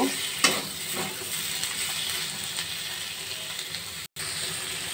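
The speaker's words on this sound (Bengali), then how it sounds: "কাটা টমেটোগুলো দিয়ে গ্যাসের ফ্লেমটা কমিয়ে নাড়াচাড়া করব।" Chopped tomatoes fry in a pan over a lowered gas flame while they are stirred, producing a continuous close sizzle with scraping spoon strokes. There is a brief dropout near the end.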